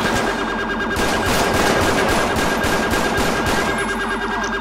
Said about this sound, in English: What is up with all the shots?